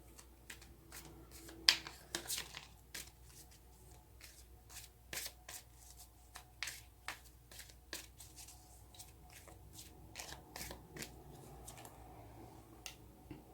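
Tarot cards are shuffled by hand in a quiet room, a string of soft riffling bursts and light slaps repeating irregularly at close range with no talking.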